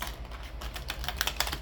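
Tarot cards are shuffled by hand close up, a soft rapid riffling and flicking with a few sharper snaps near the end, quiet, with no talking.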